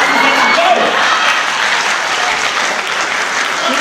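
Steady applause from an audience, a dense wash of clapping that holds at an even level throughout.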